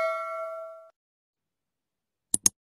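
A notification sound effect: a sustained ringing bell tone that fades after about a second, followed by silence and two quick clicks.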